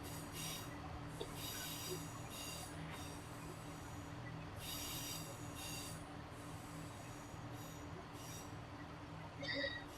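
A Class 170 diesel train from Glasgow Queen Street runs through Dundee station, giving steady rail rumble with repeated high wheel squeals and screeches, moderately distant, with no talk.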